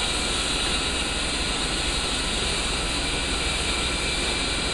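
An A-10C jet engine spools up during a cold start in the DCS flight simulator, a constant loud turbine whine and roar with broad steady noise throughout, no voices.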